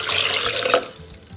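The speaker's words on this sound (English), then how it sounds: "we're gonna be adding cold water." Water pours in a brief, bright splashing stream that cuts off abruptly, followed by quiet trickling.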